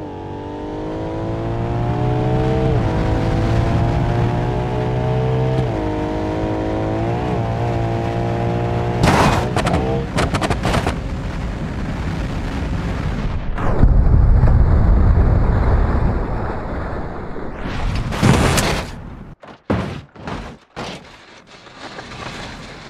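A Porsche Cayenne in BeamNG Drive on a snowy winter road, its engine droning loud and steady, then rising, rushing past a ramp and ending in a burst of sharp crash impacts and clattering debris.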